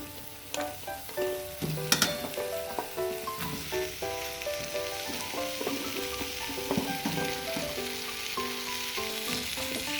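Potatoes and mixed winter vegetables sizzle and fry in a pan with oil, a steady hiss close up, punctuated by clinks of a spatula or spoon against the pan as the pieces are stirred.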